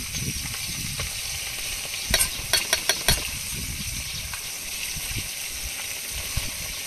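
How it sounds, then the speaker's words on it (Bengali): Fish sizzling as it fries in a pan for a Bengali meal, a steady hiss throughout with a cluster of sharp pops and spatters in the middle, no talk. "মাছ ভাজা হচ্ছে"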